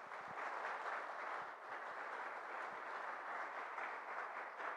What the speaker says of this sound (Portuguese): se vocês tiverem que aplaudir, peço que aplaudam a essas pessoas